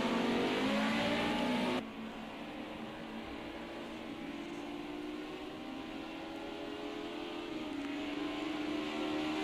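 A Ford Cosworth-engined race car accelerates hard along a circuit's start-finish straight during a Group A race, a loud rising engine note that drops abruptly after a gear change and then climbs steadily again, with no voices.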